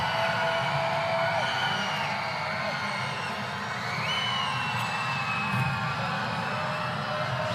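Crowd noise in an arena during a women's college basketball game between Elon and North Carolina: a steady, mid-distance din of many voices with scattered shouts and whoops, and no sharp peaks.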